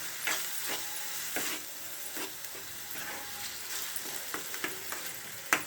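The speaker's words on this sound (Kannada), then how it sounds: "ಇದನ್ನು ಹಸಿ ವಾಸನೆ ಹೋಗೋವರೆಗೂ ಫ್ರೈ ಮಾಡ್ಕೋಬೇಕಂತೆ." Chickpea curry masala sizzles steadily in a pan, a continuous hiss broken by regular sharp scrapes and clatters from stirring, close and fairly quiet with no talking.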